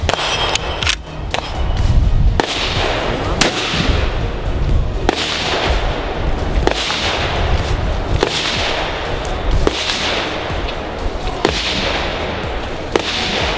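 Sharp, loud cracks from shots of 7.62x54R sport ammunition without a steel core, fired at a category 3+ ballistic armor plate during a protection test. About nine impulsive bangs repeat at a fairly steady interval, each with a short outdoor decay and no talk.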